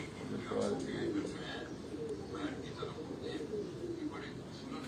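Pigeons on a rooftop coo in low, rolling phrases several times, mixed with someone talking nearby and a faint outdoor background.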